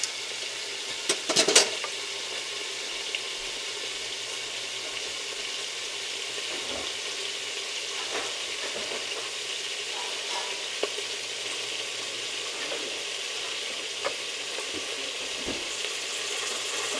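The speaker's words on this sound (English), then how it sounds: "Now we're getting to the fried pork part. So now we got to let the other side cook" Pork frying in a pan, a steady close sizzling hiss with a brief burst of crackling spatter early on and occasional soft pops, alone with no talk.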